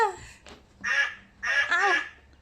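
Three nasal, honking quacks from a duck or similar fowl, loud and close, spaced apart over a quiet background.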